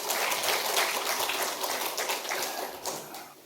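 Congregation applause during a Sunday church worship service, a dense patter of clapping that stays fairly even and then tapers slightly over a few seconds.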